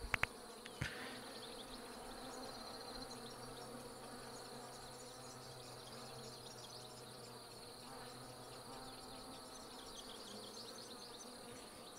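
Bees in the Hive Time video game: a continuous, even insect drone and buzz, soft and steady throughout, with a few faint clicks at the start and no talk.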